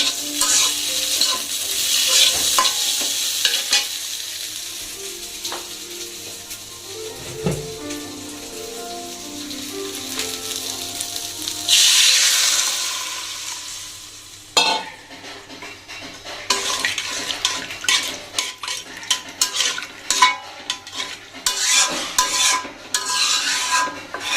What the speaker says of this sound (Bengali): এদিকে মাছ ভাজি করে রাখছি এই চিচিঙ্গাগুলোকে রান্না করার জন্য